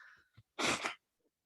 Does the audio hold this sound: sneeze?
yes